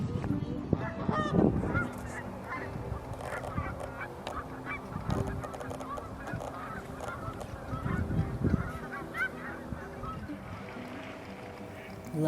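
Canada geese honk in scattered bursts, some close and loud, others farther off, with gentle background noise between calls, in Nebraska during a blizzard.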